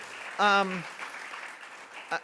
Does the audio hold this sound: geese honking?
no